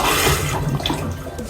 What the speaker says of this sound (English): I think it's going to just empty the toilet.